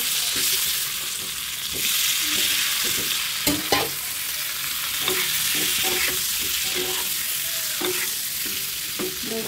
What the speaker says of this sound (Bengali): ডিমগুলো ভাজা হোক